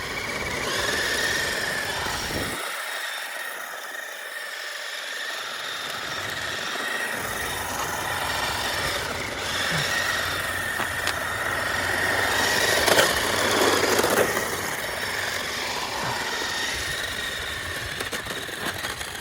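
Small RC widebody 2018 Mustang toy car drifting, a continuous high-pitched electric whine and rough scraping rumble that swells and fades as it slides, heard from an onboard camera without talk.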